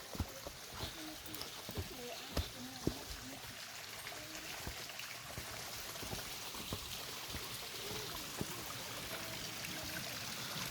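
Water streams and trickles steadily from a spring source in Santos Reyes Pápalo, a rural Oaxaca village, a continuous outdoor flow with scattered splashes and faint voices in the background.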